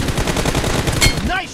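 Rapid automatic gunfire in PUBG Mobile during a team deathmatch, a loud close burst of shots, with a short voice-like sound near the end.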